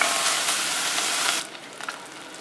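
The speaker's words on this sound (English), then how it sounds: "the first thing we're going to throw in is our 4 slices of bacon. And we'll get a nice fry on that." Four slices of bacon frying in a pan give a steady, close sizzling hiss for over a second, then the sizzle drops quieter with a few faint pops and crackles.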